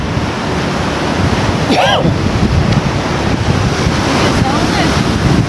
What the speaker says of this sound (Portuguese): O mar hoje tá agitado